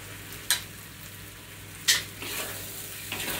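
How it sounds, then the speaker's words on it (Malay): Steady hot-oil sizzling in a pan as spices, including curry leaf and moringa powder, fry, with two sharp scraping stirs and a louder burst of frying near the end. "Goreng sekejap."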